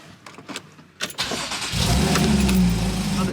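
A Porsche 981 S with an Agency Power catback exhaust starts up after a few faint clicks, catching at about one second and settling into a loud, steady, rumbling idle close by.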